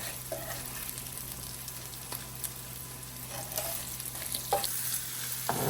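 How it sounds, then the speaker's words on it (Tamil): Vegetables stir-fry in a pan for pineapple shrimp fried rice, a quiet steady sizzle with occasional scrapes and stirring knocks close by. "இப்போ இந்த மரக்கறி நல்லா பொரிஞ்சு கொண்டு வர இருக்குல்ல"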